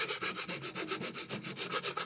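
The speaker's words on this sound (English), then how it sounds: "So a little bit more sanding," A wooden plug for a piggy bank is sanded by hand in quick, even back-and-forth strokes, a soft rhythmic rasping heard close and alone.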